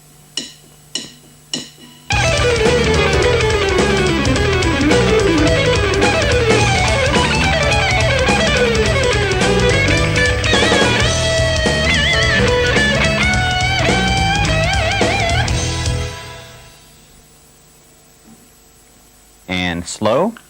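A few taps lead into a long, busy instrumental passage of plucked guitar notes at steady volume, which stops and leaves near silence before brief clicks.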